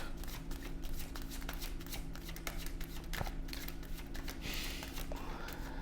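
Oracle cards are shuffled close by in a steady run of riffling, flapping card noise with light taps and rustles, and no one talks.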